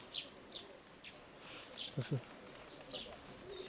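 Pigeons at a backyard loft give a couple of soft low coos, faint and close together, among scattered thin bird chirps in an otherwise quiet outdoor setting.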